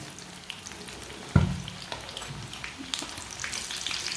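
Carrot kababs fry in oil in a pan with a soft, crackling sizzle, one sharp knock near the start, and bubbling that gets busier toward the end. No voices.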